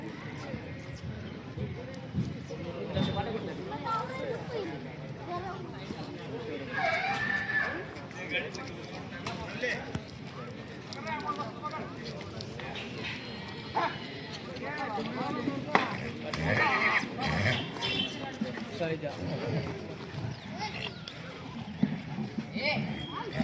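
Horses at a busy horse market in Yevla, with occasional whinnies and hoof clatter amid a constant hubbub of people talking close by.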